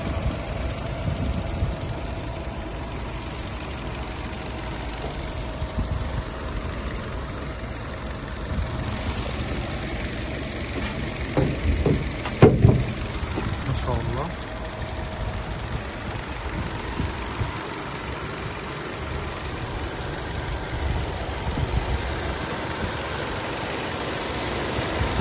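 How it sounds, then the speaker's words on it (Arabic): A new Kia Grand engine idles steadily, a smooth low hum with faint mechanical ticking and a few brief clunks midway, heard close with no talking. "المحرك، صوت المحرك مزيكا زي ما حضراتكم سامعين."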